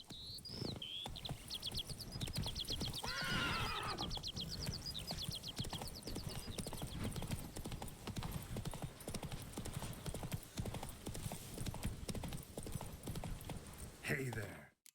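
Roach, the horse in The Witcher 3: Blood and Wine, gallops with fast, steady hoofbeats that run almost the whole time, plus a short whinny near the start.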